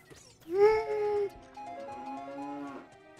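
Cattle lowing in a cow grotto in the video game Ocarina of Time, two drawn-out moos in a row, the first louder and rising, the second longer and steadier, with faint background noise.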